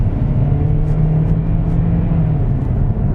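A 2020 Kia Soul with a CVT pulls away from a corner. Its engine gives a loud, close, steady drone that eases lower as the revs drop, and no one speaks.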